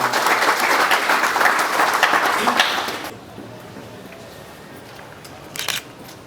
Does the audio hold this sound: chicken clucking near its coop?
no